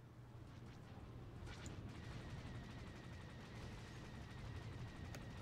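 Video game gunfire rattles as a faint, muffled, continuous barrage of shots over a low rumble, with occasional sharper cracks standing out.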